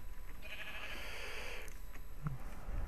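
Sheep bleating in the Minecraft survival game, a drawn-out bleat standing out clearly at moderate volume over steady background noise, followed by a brief softer sound near the end.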